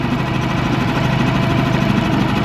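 A boat engine idles at a canal lock with a low, steady rumble and faint knocking, constant and close, with no voices.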